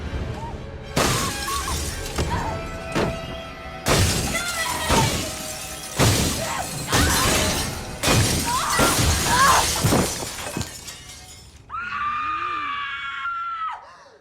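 Glass shatters in a slasher-movie death scene: several loud crashing bursts separated by short pauses, mixed with screaming, ending in a drawn-out wavering scream.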